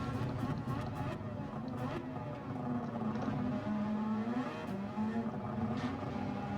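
Race car engine in Gran Turismo 7 during a Super Formula race at Fuji, a continuous droning engine whine with shifting pitch heard faintly under steady background sound, no clear gear-change bursts.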